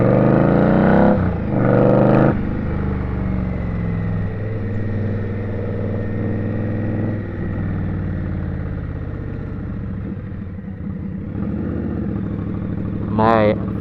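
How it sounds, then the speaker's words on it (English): Indian motorcycle ridden through weekday traffic on the Avenue of the Americas in New York City, its steady engine drone running throughout under spoken commentary, with a brief sharp high sound near the end. "I'm riding an Indian on the Avenue of Americas."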